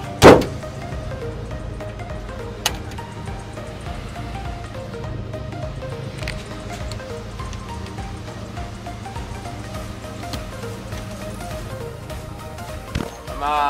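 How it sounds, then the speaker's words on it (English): A jump-started car engine runs at a steady idle, a low continuous rumble with a couple of sharp clunks near the start and end. "Okay, her car's running now."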